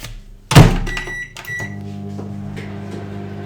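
Bao buns heating in a microwave oven: a loud thunk of the door closing, then a steady mechanical hum with a faint tonal whine running on alone.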